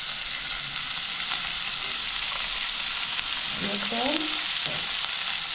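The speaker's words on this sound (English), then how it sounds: "Now we'll put our minced meat in the pan." Minced meat (keema) sizzling steadily in a hot pan, a loud continuous fry with occasional stirring scrapes, and a brief voice speaking near the end.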